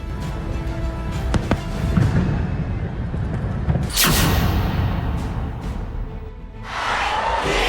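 Fireworks over Marina Bay Sands at a New Year celebration in Singapore, heard as a loud continuous crowd-and-blast wash with a sharp burst and whoosh midway and a bright crackling spray near the end.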